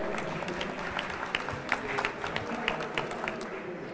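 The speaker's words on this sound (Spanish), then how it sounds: "Fuerte aplauso, chicos." An audience at a hackathon final breaks into sustained applause, dense clapping from a crowd filling the room, steady and fairly loud, before the next presentation begins.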